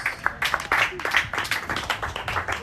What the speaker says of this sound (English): clap a little harder for me